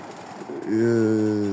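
A pigeon gives a single deep, drawn-out coo, close and clear, after a brief low murmur.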